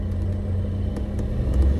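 A car engine idles in a steady low rumble and picks up slightly as the accelerator is pressed while the clutch is released, heard close and continuous with no talk.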